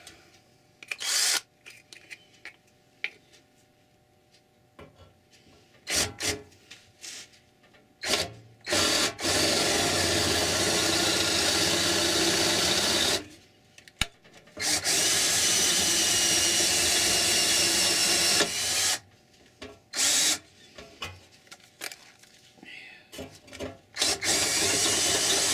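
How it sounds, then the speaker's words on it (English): A 3/8-inch power drill runs in several bursts, whining steadily for a few seconds at a time, with short pauses and handling noise between runs. "3/8 drill."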